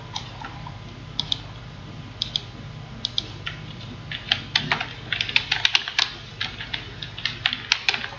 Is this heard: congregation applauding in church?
no